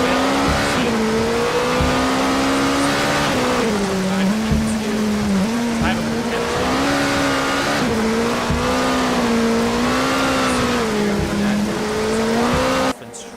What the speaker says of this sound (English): the car slipping and sliding in these wet conditions